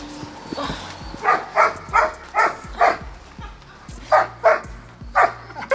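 A small puppy gives a steady series of sharp, high yaps, about ten in a row, close by, with faint background noise between barks.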